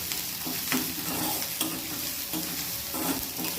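Wild foraged vegetable bhaji being stirred and fried in hot oil with garlic, a loud continuous sizzle with scraping strokes of a spoon in the pan, close up and with no talking.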